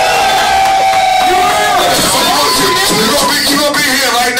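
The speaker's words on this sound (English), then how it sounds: "Make some noise if you want to see Rock do a showcase next week" A large crowd cheers, whoops and shouts loudly together, a dense roar of many voices sustained from start to finish.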